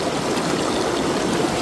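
A clear mountain stream beside the Beartooth Highway rushes steadily, a loud, close, continuous wash of flowing water with no pauses and no voices.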